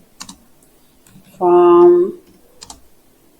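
Typing on a computer keyboard in short bursts of quick clicks at the start and the end, with a single spoken word between them.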